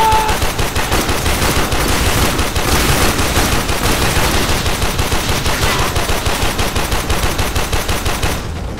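Gunfire from a Warframe firefight rattles in a steady, rapid stream of loud shots for several seconds without pause, dense and close with no talk over it.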